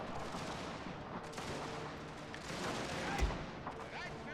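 Gunfire and artillery in a Prussian-era strategy video game battle, dense continuous volleys of shots with a louder cannon-like boom near the end, under a steady din.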